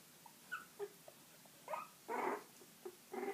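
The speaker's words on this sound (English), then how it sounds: "because she hears the puppies squeaking" Australian Labradoodle puppies about two and a half weeks old give scattered soft squeaks and whimpers, a few short isolated cries then a longer louder one, close by in a quiet room.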